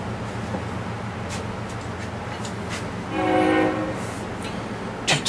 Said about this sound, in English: Trains having to creep because of the Okefenokee Swamp Festival going on